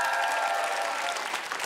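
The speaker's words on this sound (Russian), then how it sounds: "Ты молодец, Леш, аплодисменты." Studio audience applause on a television quiz show: a loud, dense burst of clapping from the crowd, steady and unbroken for under two seconds with no voices over it.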